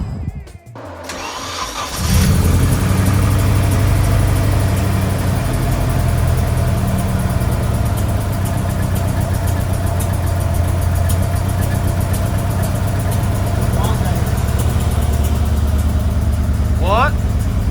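Repaired engine of a Nissan S13 cranking and catching, then a rising rev settling into a steady, loud rough idle, with voices talking briefly over it.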